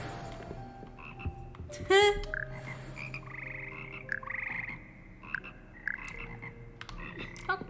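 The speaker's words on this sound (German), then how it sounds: "Hier sitzen die schleimigen und doch melodischen Frösche, die den Froschchor von Hogwarts bilden." A magical frog choir in the video game Hogwarts Legacy croaks in a loose, sung chorus of sustained tonal croaks and chirps, with one brief spoken interjection.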